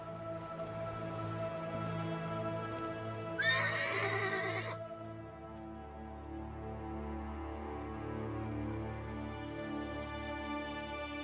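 Horses in The Elder Scrolls Online, with a single loud whinny rising over a steady layer of game music and ambience, fading back to the background drone.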